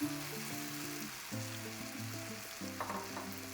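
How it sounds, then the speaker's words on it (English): Cauliflower florets fry and get stirred with onions, tomatoes and spices for cauliflower sabji, a loud continuous sizzle with music playing underneath. "Stir the cauliflower florets for about 3 to 5 minutes until the cauliflower florets are nicely coated with the onions and tomatoes along with the spices"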